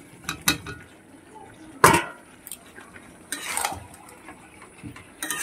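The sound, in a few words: fried potatoes added to chicken gravy in a pan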